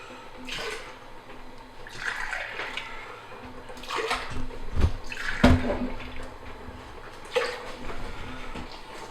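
Water pours steadily into concentrated zarusoba noodle sauce in the background, with a few sharp knocks and clinks of a container partway through.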